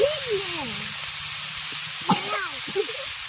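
Potato, eggplant and green spice paste frying in a pan over previously fried spices, a steady close sizzle with faint scraping stirs and a brief clatter near the middle; a voice speaks faintly at times.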